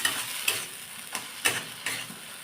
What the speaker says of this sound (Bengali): তো এইভাবে খুন্তি দিয়ে আমি ভালো করে নেড়ে চেড়ে নিচ্ছি।